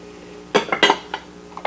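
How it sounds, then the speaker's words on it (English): White and dark chocolate chunks dropped into a Cuisinart PowerPrep Plus food processor bowl fitted with a chopping blade, making a few sharp, close clinks and clatters in quick bursts. "in goes the white chocolate. And as you can see, I'm using the chopping blade, and now some dark chocolate as well"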